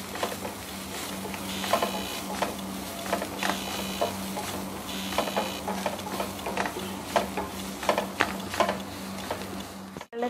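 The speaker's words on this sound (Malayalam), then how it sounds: "പിന്നെ ഗരം മസാല, ഇതൊന്ന് വഴറ്റി കൊടുക്കുക" Spiced masala with chilli powder and garam masala stirred and sautéed in a pan for a chicken bread roll filling, a steady soft sizzle under repeated scraping and tapping of a spoon, close and continuous.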